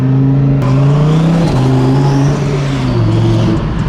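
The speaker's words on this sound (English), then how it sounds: "the turbo noises make up for it" A twin-turbo Audi R8 engine pulls hard under acceleration, a loud, close droning roar with the pitch climbing and dipping as it works through the revs.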